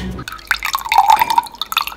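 Water drips steadily from a leaky plastic TEDI product outdoors on a summer day, a quick run of small, close, fairly loud drips and splashes heard alone.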